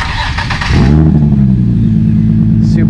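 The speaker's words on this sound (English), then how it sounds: "do you want to give them a little startup and a little rev really fast?" Nissan 350Z with an HR engine cranks and fires up, then gives a quick sharp rev before settling into a loud, steady idle close by.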